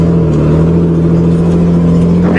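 A 1986 Nissan 4x4 truck engine runs loud and close, a steady droning hum with a faint lift in pitch toward the end and no talk.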